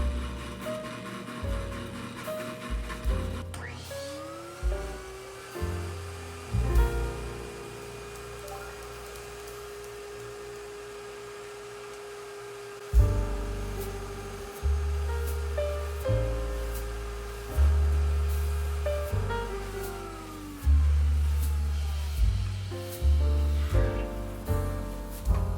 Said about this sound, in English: if you're fortunate enough to have a record cleaning machine that goes both ways